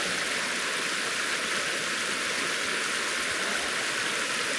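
Small stream in a Finnish national park in September, water flowing steadily over rocks nearby as a continuous, even rushing wash with no pauses and no voices.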